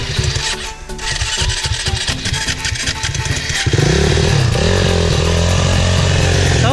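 A KTM Husaberg enduro motorcycle engine revs loudly and continuously on a rain-soaked enduro track in Pamukova, rough and buzzing, climbing to a steady high-pitched roar partway through.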